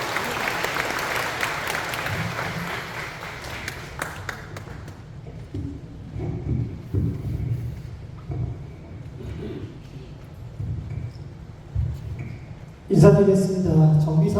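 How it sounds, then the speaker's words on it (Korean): Applause from an audience at a residents' briefing on redevelopment welcomes a presenter, fading after a few seconds into a quiet room with faint shuffling, then a voice begins speaking near the end. "큰 박수로 환영 부탁드립니다."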